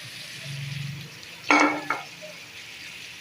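Chicken frying in a pan with capsicum, carrot and cabbage, heard as a soft sizzle with a short, loud burst of stirring or scraping in the middle, close up and without speech.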